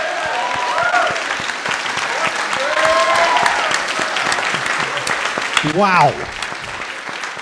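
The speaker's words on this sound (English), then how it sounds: "I want everyone to just give an insane round of applause for all of these very smart people." Live audience at The Bell House in New York applauding panelists at the end of a show, dense sustained clapping with whoops and cheers, a voice briefly exclaiming over it near the end.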